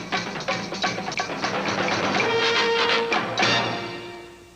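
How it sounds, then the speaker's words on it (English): A bright, brassy orchestral fanfare swells with layered chords and rising sustained notes, loud and full, fading slightly at the end: the CBS special presentation intro jingle. "That's the sound of the CBS special presentation."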